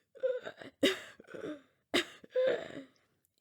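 A series of short, harsh coughs and throat-clearing bursts, about four separate fits with pauses between them, close and fairly quiet, imitating a hero choking and struggling to breathe.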